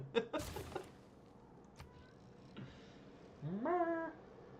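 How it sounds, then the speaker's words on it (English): Several cats meow in the background while a Civilization 6 game is played, with short, faint cries early on and a longer, louder rising meow near the end. "you can hear the cats meowing in the background"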